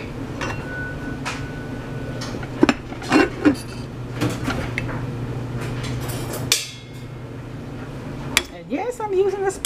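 A spoon scooping cooked red beans into a small sampling bowl, with scattered clinks and taps of metal on dishware over a steady kitchen hum, ending in a brief scrape.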